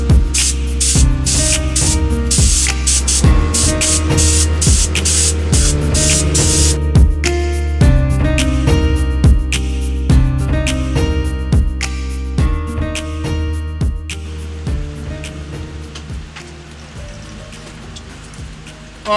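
Bursts of aerosol spray paint through a stencil onto a wooden flag hiss in short repeated blasts, with clattering and rustling between them, close and fairly loud.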